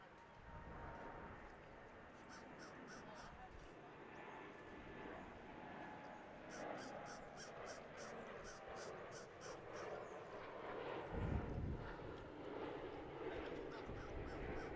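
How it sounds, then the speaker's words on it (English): Boeing Dreamliner departing DFW airport, heard as a distant, steady jet engine roar that swells slightly late on, with crows cawing repeatedly nearby and faint talk underneath. "Here's our Dreamliner departure to Tokyo."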